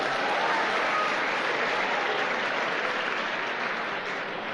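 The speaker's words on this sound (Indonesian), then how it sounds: "Nah, tepuk tangan buat Bapak Ibu." Seminar audience applauding in a hall, dense continuous clapping at full strength from start to finish with no talk over it.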